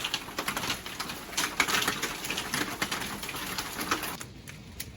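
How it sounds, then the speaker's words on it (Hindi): Hail pattering outside a house in Edmonton, Alberta, a dense, steady rattle of many small impacts with a hiss behind it, fairly faint and distant. It thins out near the end. "आपको आवाज़ आ रही होगी कि हेल की आवाज़ आ रही होगी"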